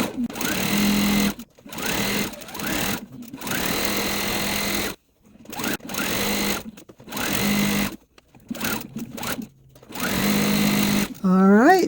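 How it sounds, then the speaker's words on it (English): A sewing machine stitching quilt pieces in steady runs of fast, close mechanical whirring, stopping and starting several times with brief silent gaps between seams. "I'll stop talking now and just sew."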